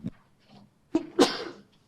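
A sharp sneeze rings out in a quiet meeting room: a short breath, a catch, then a forceful burst. A few faint quick sounds precede it.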